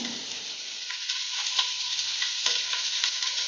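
Frying in coconut oil and ghee for Mangalore-style country chicken sukka gives a loud, constant close sizzle with a few soft stirring knocks.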